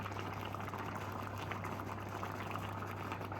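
Green tomato relish with ground cumin, coriander and chili simmering in a pot, a steady close bubbling and gentle boiling hiss that holds constant throughout, with no talking.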